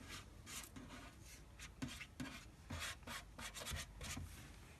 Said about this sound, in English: Then what you do is you just come and you scrape it out.